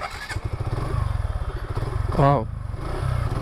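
A 2020 Suzuki Gixxer motorcycle accelerates in first gear with a close, throbbing engine note that climbs in pitch, while a rider briefly calls out partway through.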